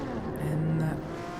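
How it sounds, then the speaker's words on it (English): Honda NSX race cars lapping the Tokyo circuit in a racing video game, a steady engine drone with a brief higher tire-squeal tone in the middle, heard at moderate level. "It is now Tokyo in the Honda NSX."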